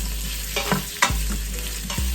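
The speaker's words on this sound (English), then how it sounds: "Now I'm gonna add my kielbasa. And you'll hear a nice sizzle." Loud, steady frying sizzle of kielbasa browning in hot oil in an Instant Pot, with a few sharp clattering stirs and pan knocks breaking through the hiss.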